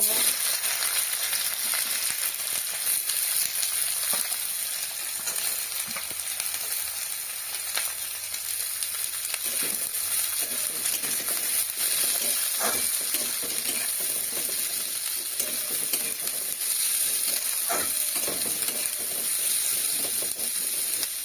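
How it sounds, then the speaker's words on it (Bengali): Chopped onions hiss in hot oil with whole cumin and other spices in a home kitchen pan for chicken kosha, a steady sizzle with occasional clicks of a spoon. "মশলাগুলো ভাজার খুব সুন্দর একটা গন্ধ বেরিয়েছে এবার আমি পেঁয়াজ কুচিগুলো দিয়ে"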